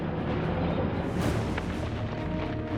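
Naval bombardment and Allied airstrikes in World War II Sicily, rendered as a dense, continuous rumble of explosions and artillery fire with no single distinct blast standing out, steady and moderately loud throughout.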